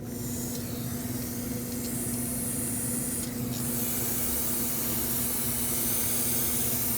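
Water is sprayed to rinse the rear inner brake hose area of a 2009-2015 Honda Pilot, a continuous close hissing spray that runs steadily throughout without pause.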